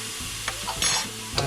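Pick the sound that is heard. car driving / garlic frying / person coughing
garlic frying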